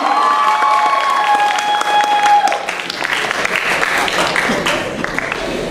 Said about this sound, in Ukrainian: Ще раз поаплодуємо нашим талановитим студентам.